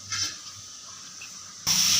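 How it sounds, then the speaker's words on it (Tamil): Water poured into a pan of roasted semolina while making kesari, a soft hiss that swells into a loud rushing pour near the end. "நல்லா தண்ணி விட்டுக்கிறணும்."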